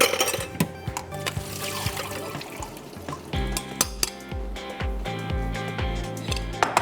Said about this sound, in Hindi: एप्पल्स को पानी में डाला था तो पानी भी निकाल देते हैं।